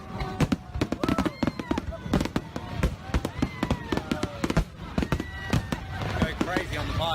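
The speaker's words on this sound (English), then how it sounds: "Go crazy on the fireworks." A Fourth of July fireworks display at Waikiki cracks and booms in rapid, dense bursts, loud and close, with whistling and crackling trails between the blasts and crowd voices underneath.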